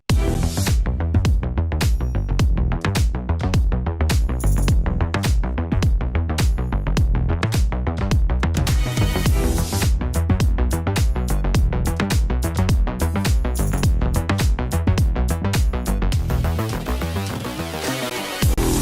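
A full electronic dance track with drums, bass and strings playing together, dense and loud throughout with a driving beat, sustained tonal layers and a brief break near the end.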